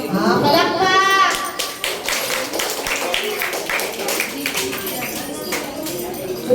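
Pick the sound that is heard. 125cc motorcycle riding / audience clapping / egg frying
audience clapping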